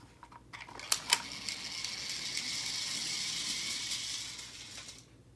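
A Duke Caboom Stunt Racer launcher from Toy Story 4 is pulled back: a few sharp ratchet clicks, then a steady close grinding ratchet lasting about four seconds before it stops.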